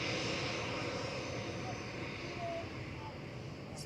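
An EasyJet airliner departs Manchester Airport with a steady, distant engine roar that fades slightly over a few seconds, and a voice speaks faintly over it.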